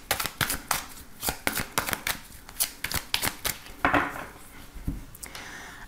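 Divination cards being shuffled and cut by hand, a rapid run of crisp flicking riffles and soft slaps, close but fairly quiet, with no talking.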